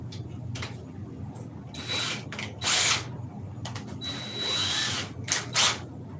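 Power drill boring a pilot hole for a dowel rod, several short whirring bursts starting and stopping close by, with scraping and handling noise between them.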